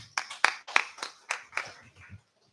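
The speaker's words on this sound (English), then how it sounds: "Let us give applause to them." An audience at a critical care medical conference gives a nursing team a short burst of scattered hand claps, about eight sharp slaps spread over two seconds before stopping, close and fairly quiet.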